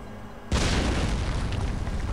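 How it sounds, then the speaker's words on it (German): A sudden loud explosion bursts out in the video game Chaser, a deep booming blast that hits at once and then rumbles on with a broad, sustained roar. "das war einfach so eine random Explosion"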